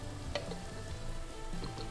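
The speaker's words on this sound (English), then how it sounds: "Zucchini are cooking." Zucchini cook in a pan on the stove with a steady, close sizzle and soft crackling pops, continuous and moderately loud with no talking.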